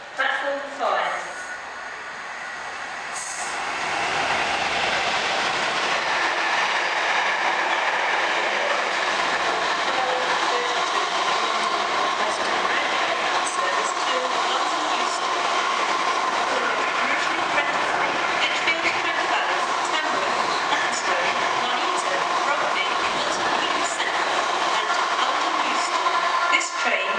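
A loud, steady rush of a train running through the station at Stafford without stopping, the roar building after a few seconds and holding for the rest of the clip, with station announcements carrying over the noise.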